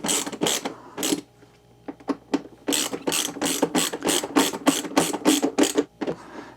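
Ratcheting tool tightening screws on a Harley-Davidson Road Glide TourPack, a close, loud run of quick repeated clicks in short bursts, with a pause and then a steadier series of strokes.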